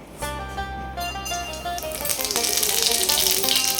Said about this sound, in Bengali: তেলটা গরম হয়ে গেছে, এখন করে রাঁধুনি ফোড়ন দিয়ে দেবো।